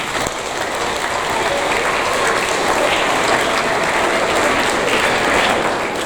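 A crowd at a seventh-grade school awards ceremony claps in a loud, steady burst. The dense, rain-like applause carries evenly throughout with no pause, and no voices rise above it.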